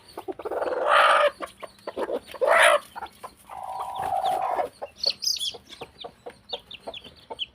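Hens cluck and squawk loudly in bursts, with soft high peeping of newly hatched chicks scattered between, close by and without talk.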